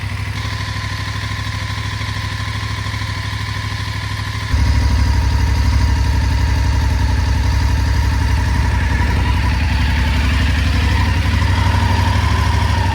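A 2019 BMW F850GS Adventure motorcycle with an Akrapovic exhaust idles close by, a steady throb that steps up noticeably louder partway through and then holds an even, chugging rhythm.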